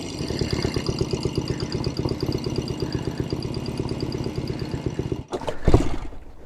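A 1970 Royal Enfield Interceptor 750 Mk II motorcycle engine idles with a steady, even throb for about five seconds, then cuts out briefly before a short burst of revving.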